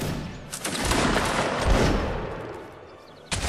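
A musket volley fired by a line of soldiers in the Napoleonic Wars video game: a dense, crackling burst of shots that swells and fades over a few seconds, then a sharp new report at the end.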